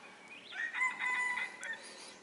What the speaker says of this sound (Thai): เสียงไก่ขันยามเช้าครับบรรยากาศสุดยอดครับ